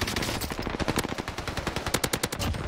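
Rapid automatic gunfire in Call of Duty Warzone, a loud close string of evenly spaced shots with a few brief gaps, fired in a hallway.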